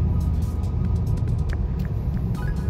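A 2019 Toyota Corolla Hatchback with a 2.0L engine and a deleted muffler pulls under mild acceleration, giving a loud, steady low exhaust rumble with no voices.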